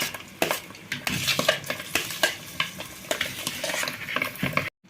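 Meat and desert truffles (kama) cooking in a pot, turned with a metal spoon: repeated scraping, clinking strokes against the pot over a steady low sizzle, close and fairly loud, with no talking.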